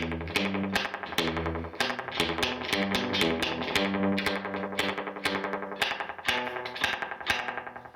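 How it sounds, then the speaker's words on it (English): Guitar playing through a Raven guitar amplifier with reverb cranked up, each plucked note ringing with a bright, splashy, popping reverb tail; loud and continuous. "this is what I call a popping reverb because it pops"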